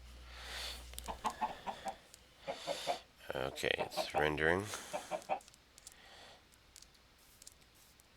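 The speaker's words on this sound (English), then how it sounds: "Ooh, hello, I hear chickens" Minecraft chickens cluck in short bursts in a modded Feed The Beast world, a few calls close together while someone talks.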